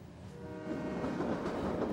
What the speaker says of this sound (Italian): Il treno sta per lasciare la stazione.